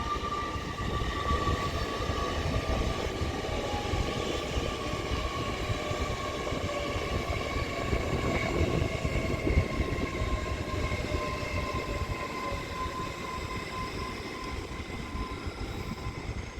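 Great Western Railway IET 800 321 runs through Reading on the Great Western Main Line toward Bristol Temple Meads from London Paddington, a continuous rumbling roar with rail clatter and a faint high whine, held steady for the whole passage.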